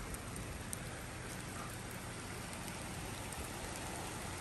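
Water from a curtain drain outlet pours out in a heavy, steady rush, a constant close splashing hiss with no pauses and no voices.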